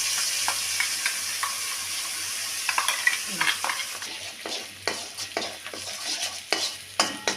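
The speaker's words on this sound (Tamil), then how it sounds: "கொஞ்சம் கடுகு உளுத்தம் பருப்பு போட்டுக்கலாம். தாளிக்க கடுகு நல்லா பொரிஞ்சிருச்சு." Mustard seeds and urad dal spluttering in hot oil for a mint chutney tempering: a steady sizzle with scattered sharp crackles and pops that grow busier toward the end, close and fairly loud.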